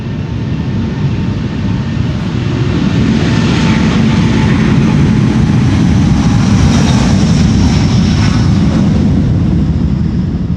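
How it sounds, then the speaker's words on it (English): A Delta Airbus A330neo roars down Schiphol's Polderbaan runway 36L on takeoff, a loud, steady low engine rumble with a broad hiss that swells gently as it climbs away, no voices. "this is another Delta A330 Neo going to Boston, Massachusetts"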